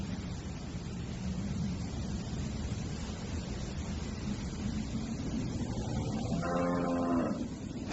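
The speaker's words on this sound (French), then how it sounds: "Si, c'est une vache." A cow moos once near the end, a drawn-out low call rising out of steady rushing background noise that fills the rest of the clip, with no talking.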